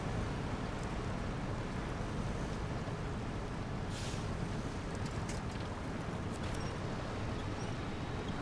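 A truck fords a water hazard in the SnowRunner video game, Taymyr map on hard mode, giving a steady, dense rush of splashing and engine-like broadband noise throughout, with no talking.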